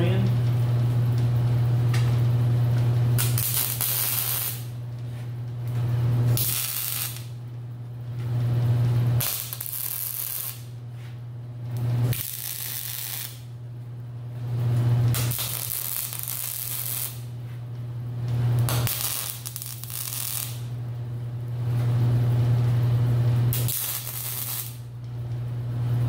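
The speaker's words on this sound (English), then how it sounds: "It's time to weld the floor in." Rebar flooring is welded into a fuel caddy in repeated bursts of loud crackling hiss over a steady low hum, each burst stopping briefly before the next.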